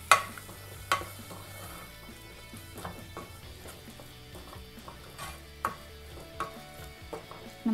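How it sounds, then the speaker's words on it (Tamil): Masala sautéing in a pan for village-style chicken salna, with soft sizzling under repeated sharp clinks and scrapes of a spoon stirring against the pan, close and moderately loud. "இந்த மசாலா வந்து நல்லா ஒரு 2 நிமிஷம் நல்லா வதங்கட்டும்."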